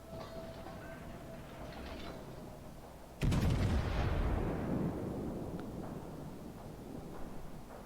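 Battleship main guns fire in World of Warships, a sudden loud booming blast with a long rumbling decay after a quieter stretch of engine and ambient hum.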